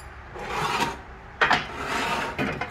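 Phillips screws being backed out of a C3 Corvette vacuum-operated headlight assembly, close gritty scraping and rasping with a few sharper bursts, no talking.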